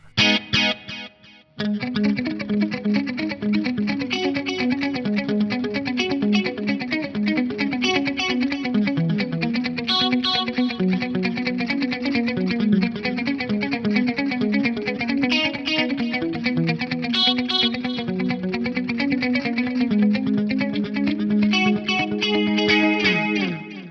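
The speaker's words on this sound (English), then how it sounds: "It's a fantastic sounding delay in there." Detuned pitch-shifted voices run through a 350 ms delay with about 20% feedback, playing a continuous dense, chorused musical passage with soft repeats trailing behind the notes, loud and steady throughout.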